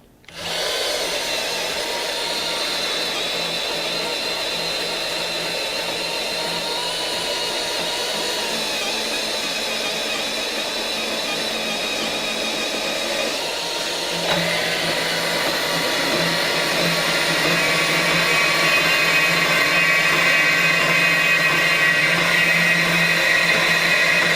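Milwaukee 2729S deep cut dual trigger cordless band saw cutting through 5-inch wide stock, a steady loud motor whine with blade hum that holds throughout and rises slightly in pitch partway through.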